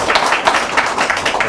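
An audience at a policy forum lecture gives a short burst of clapping, a dense, steady patter of many hands with no voices on top.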